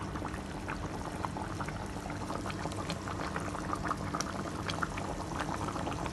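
A pot of village-style rabbit curry gravy simmers at a steady rolling boil, with dense bubbling and popping that holds an even, moderate level throughout.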